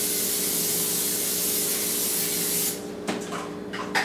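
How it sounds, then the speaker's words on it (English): Non-stick cooking spray hisses from a can onto a 13 by 9 baking dish in a continuous spray for nearly three seconds, then stops. A few soft clatters and rubbing sounds follow. "Spray our baking dish. It's a 13 by 9 baking dish with non-stick cooking spray."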